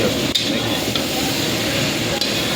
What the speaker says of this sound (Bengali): এটা একটু সাত আট মিনিট মতন এইভাবেই ভাজা টাইপের হবে